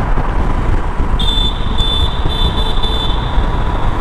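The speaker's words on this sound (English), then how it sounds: "I can hear a sound with the horns, like, you ready for this? Horn in a tunnel." A car horn blares inside a tunnel on a road trip, a sharp high-pitched tone sounding in several short bursts over loud, rumbling tunnel road noise.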